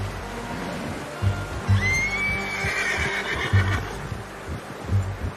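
A horse in Red Dead Redemption II lets out a long, high whinny that rises and then trails off. Steady hoofbeats thud underneath it in a regular rhythm, close and fairly loud, with no talking.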